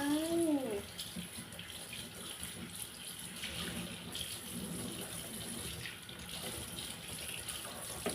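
Running tap water splashes steadily while dishes are washed at a sink, a continuous close gushing hiss lasting throughout, with a brief tonal squeak at the start.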